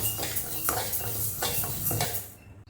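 Moong dal and five cardamom pods are dry-roasted and stirred in a pan for laddu, giving soft, rhythmic scraping and rattling strokes of a spoon against metal, close and fairly quiet, with no talking.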